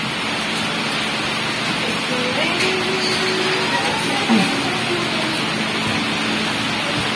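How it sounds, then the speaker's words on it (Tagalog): Heavy rain pouring down in a dense, steady hiss, close and unbroken, with faint voices and a brief low sound partway through. "Naabutan ako ng malakas na ulan sa may sa may papasok na dito kaya nabasang konti"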